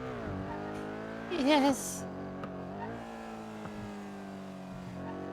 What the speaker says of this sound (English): You hear the engine right now?